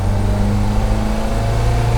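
The engine of a custom 1962 Toyota Stout truck rumbles loudly and steadily up close, a deep droning hum holding a constant pitch with no breaks.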